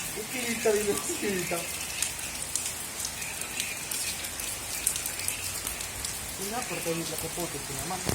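Continuous rain patters on a surface throughout, with a faint voice humming or speaking briefly near the start and again toward the end.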